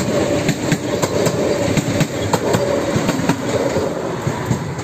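A Polish Impuls electric multiple unit train rolls past close by at Warszawa Reduta Ordona station, wheels clacking rhythmically over rail joints with a steady hum underneath, and no one speaking.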